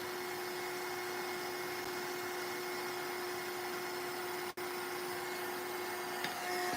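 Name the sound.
dryer drying gesso on a mixed-media piece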